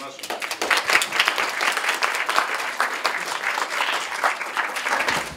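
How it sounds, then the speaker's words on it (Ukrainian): An audience applauds at a panel discussion in Kharkiv, a sustained, fairly close burst of many hands clapping that holds steady throughout. "аплодисменты нашим"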